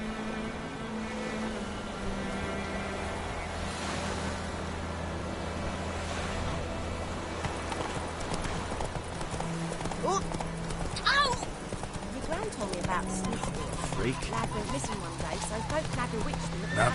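Hoofbeats of Roach, the horse in The Witcher 3, clop steadily near White Orchard over a busy game soundscape of music and water-like ambience, with character voices talking across much of it.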